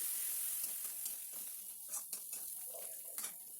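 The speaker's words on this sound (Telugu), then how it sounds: "ఇప్పుడు అల్లం వెల్లుల్లి పేస్ట్ పచ్చివాసన పోయిన తర్వాత 1 టీ స్పూను పసుపు వేసుకోవాలి." Ginger-garlic paste, onions and a spoonful of turmeric sizzle steadily in hot oil in a home kitchen pan, with a few soft stirring clicks over the constant frying hiss.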